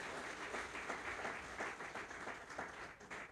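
A crowd applauding at a television network's season launch event in Dakar, a dense, steady patter of many hands clapping, heard from some distance.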